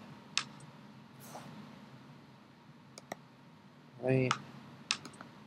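Typing on a computer keyboard, a few scattered sharp key clicks and a short burst of presses, close and crisp, with a brief spoken word.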